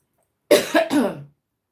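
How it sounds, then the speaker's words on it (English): A person coughs in a quick burst of about three harsh coughs, close and fairly loud, over roughly a second, with quiet before and after. "Coughing so much."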